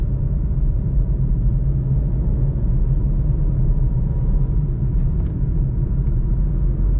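Suzuki Alto VXR 660cc 2021 car engine rumbling steadily as it pulls through second, third and fourth gears, a continuous near low drone with no talk over it.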